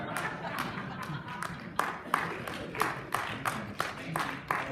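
Audience applause at a ward political meeting, a sparse round of claps with distinct individual hits spread across the room, moderately quiet with faint talk beneath.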